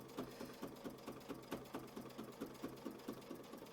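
A sewing machine stitches a quilt block in quick, steady pulses, a regular mechanical rhythm of needle strokes running throughout at moderate volume with no talk.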